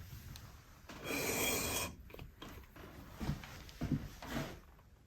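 A spokeshave blade is rubbed along a diamond sharpening plate, giving one loud rasping stroke early on, followed by a few softer scraping strokes.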